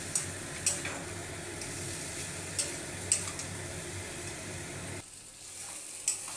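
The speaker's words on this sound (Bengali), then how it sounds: "দিয়ে দিচ্ছি কুচানো ধনে পাতা সব কিছু আমি নাড়িয়ে নিচ্ছি এখন" Lotemach fish frying with eggplant, potato and chopped coriander, a low steady sizzle with periodic sharp clicks of a spatula against the pan, the frying dropping away briefly near the end.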